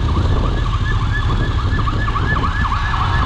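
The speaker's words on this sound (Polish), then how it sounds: "Karetka. Straż pożarna?" An ambulance siren wails in a fast repeating rising-and-falling pattern through traffic in Fordon, Bydgoszcz, loud and close over a low rumble of engines.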